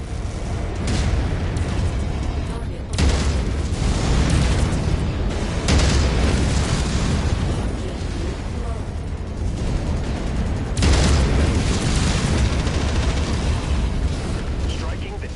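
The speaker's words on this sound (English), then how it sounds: "Taking heavy enemy fire." Heavy weapons fire and explosions in MechWarrior 5: Mercenaries make a dense, continuous barrage of loud booming blasts and rumbling impacts, with sharp surges around the 3 and 11 second marks.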